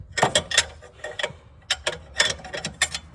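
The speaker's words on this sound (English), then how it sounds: "I'm getting you out with this wrench" A hand wrench ratchets against a catalytic converter bolt on a Dodge Grand Caravan, sounding as irregular bursts of close metallic clicks separated by short pauses.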